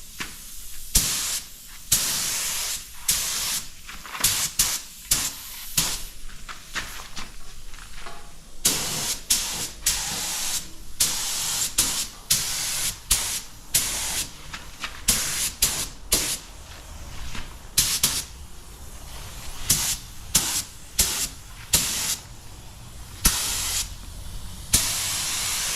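Paint spray gun spraying Jeep fender flares, with repeated hissing bursts of varying length that start and stop irregularly, close and fairly loud.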